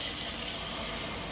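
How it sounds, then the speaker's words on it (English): Water pours steadily into a cooking pot of sweet corn and soybean porridge, a brief, close, continuous gush. "Add a little water"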